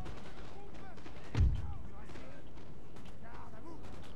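Musket fire in Napoleon: Total War at the Battle of Dresden: one heavy, booming volley cracks out midway through a steady din of battle noise and faint background music.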